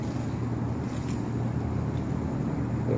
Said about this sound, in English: little windy out today.